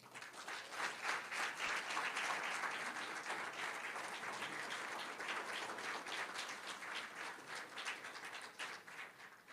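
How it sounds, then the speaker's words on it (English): A crowd at an award ceremony applauds steadily for the recipients, a dense, even wash of clapping that holds at a constant level throughout, heard from a little distance and fairly quiet. "please give us a round of applause, a final round of applause for all the recipients recognized today at the ceremony"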